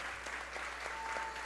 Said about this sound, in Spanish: Gabriela Rivadeneira Burbano, a quien le recibimos con aplauso